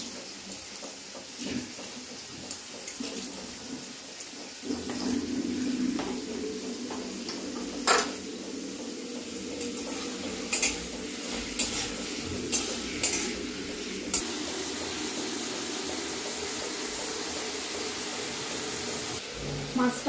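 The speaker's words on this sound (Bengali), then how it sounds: "মাছটা ভাজা হয়ে গেছে" Fish fries in oil in a pan on a home stove, a steady soft sizzle running throughout with occasional clicks and clinks of a utensil against the pan, no voices.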